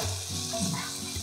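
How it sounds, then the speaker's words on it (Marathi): Masala fries in a pan with tomato, garlic paste, garam masala, coriander powder, red chili and turmeric. A soft, short, close sizzle is heard alone. "छान हा मसाला परतून घेतलेला आहे"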